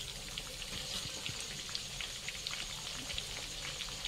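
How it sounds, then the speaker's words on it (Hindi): Chicken pakodi frying in oil over a medium flame, a steady, close, fine crackling sizzle with scattered pops throughout, no voices. "मीडियम फ्लेम में तलेंगे"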